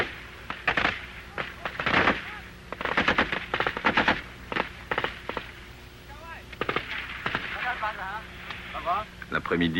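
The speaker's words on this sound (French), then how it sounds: "Le fusil mitrailleur tire au sol pour faire sauter les mines." Light machine gun fire raking the ground to set off mines during a 1968 Vietnam War firefight alongside South Vietnamese troops, heard as loud irregular bursts and single cracks with narration talking over them.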